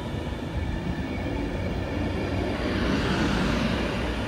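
Class 390 electric train 390 005 pulling out of Wigan North Western station, a continuous broad rumble and whir that swells slightly louder toward the end as it gathers speed, heard from the platform.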